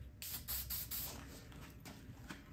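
White markings are spray painted onto a Jeep M38A1 in light coats, several short close hissing bursts from the spray can with brief pauses between them.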